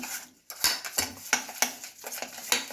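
Butter is whisked in a bowl for jeera biscuits, with quick rhythmic clinks and scrapes of the utensil against the bowl, close and alone.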